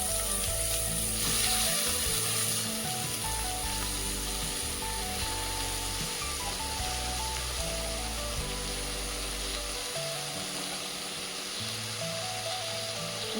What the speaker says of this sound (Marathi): आता त्याच्यामध्ये आपल्याला ही चिरलेली भाजी टाकून द्यायची